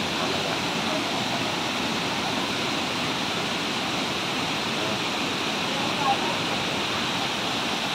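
Tagunon Falls in Agusan del Sur, a continuous, dense roar of falling water that stays loud and steady throughout, close to the listener, with no pauses.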